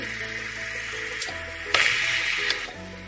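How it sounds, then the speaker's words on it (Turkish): Pressure cooker hissing as it comes to the boil while cooking meat kavurma, a steady kitchen hum broken by bursts of steam hiss that swell loudest midway through. "Düdüklü tencerem kaynamaya başladı"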